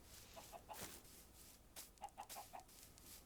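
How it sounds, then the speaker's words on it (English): Minecraft chickens cluck in short, soft bursts of two small groups of quick clucks, fairly faint over a quiet game background with no talk. "my chicken army is increasing"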